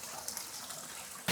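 A lobster is lowered back into a seawater holding tank at a shellfish business, giving a steady watery wash that ends in a sudden louder splash and gush.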